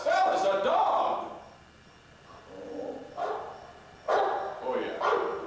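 Dog barks performed as a sound effect in a live radio play, a few separate yelps and woofs spaced over several seconds, fairly close and clear, with a voice that may be imitating the barking.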